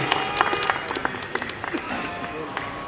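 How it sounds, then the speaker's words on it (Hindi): Audience applause for Shahnaz at a gathering of a Mumbai suburban journalists' association, a mix of scattered claps with some voices and crowd murmur over steady room noise, moderately quiet throughout. "एक बार जोरदार तालियां हो जाए शहनाज जी के लिए।"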